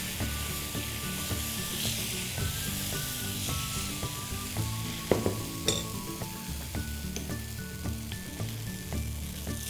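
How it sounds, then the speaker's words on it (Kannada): A lentil dosa made from moong and chana dal fries in a little oil on a hot pan, a steady loud sizzle throughout with occasional scraping and clinks of a spatula. "ಮೇಲೆ ಸ್ವಲ್ಪ ಎಣ್ಣೆ ಹಾಕಿ ಬಿಡಿ"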